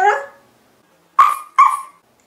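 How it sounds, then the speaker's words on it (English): A cartoon puppy gives a short yip, then after a pause two sharp, close, loud barks in quick succession, alone with no other sound. "Barks Perrito, wagging his tail."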